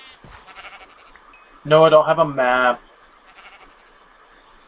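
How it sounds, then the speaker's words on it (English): A Minecraft sheep bleats in a short wavering burst at night in the game, loud and close, while a person talks quietly before and after. "What's up, sheep?"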